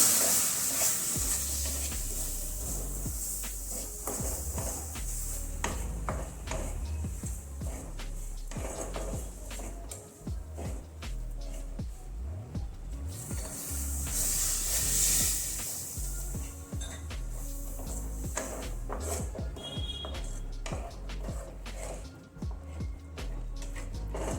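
Milk is added bit by bit to hot ghee residue on a low flame and stirred. It sizzles and bubbles continuously, with scraping stir strokes close up and no talk.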